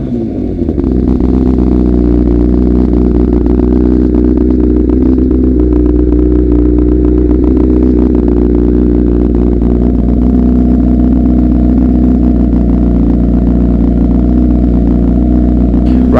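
A 2015 Honda CBR1000RR Repsol with a Toast aftermarket exhaust runs close and loud. The engine rises at the start, then holds a rich, steady, throbbing drone with no talk.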